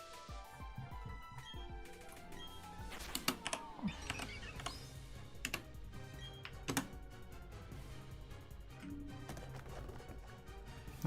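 Computer keyboard typing with scattered clicks and key taps over a steady background of game music, moderately faint and irregular in rhythm, no voices.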